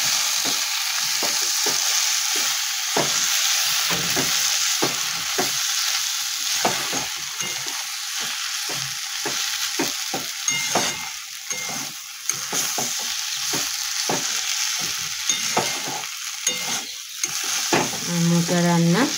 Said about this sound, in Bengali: দিয়ে ভালোভাবে নাড়তে হবে।